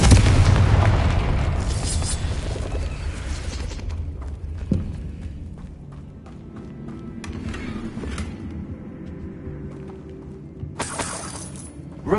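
A Confringo fire spell from Hogwarts Legacy goes off with a loud blast and shattering crackle that decays over several seconds, then a second smaller burst and a sharp hiss near the end.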